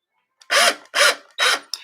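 A slow electric drill twists jewelry wire in three short, even bursts, each a whirring, rasping hum of about a third of a second, with brief pauses between and a faint tap at the end.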